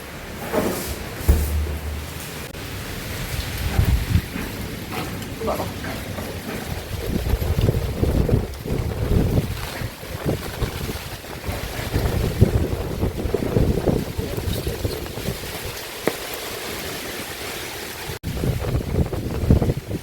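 Strong gusty wind from Cyclone Remal roars and buffets the microphone continuously, with a dense wash of noise like heavy rain throughout.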